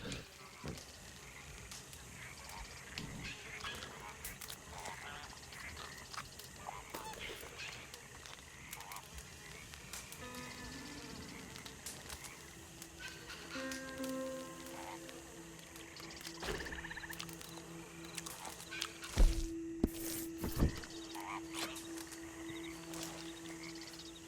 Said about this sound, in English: There's a bird laughing at me.